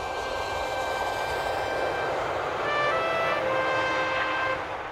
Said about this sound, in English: A jet plane was coming in to land.